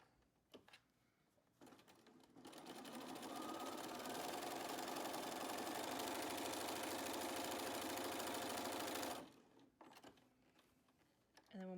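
A sewing machine stitches fabric for a washable medical mask in one continuous run of about seven seconds, a steady close whirring with quiet handling noises before and after.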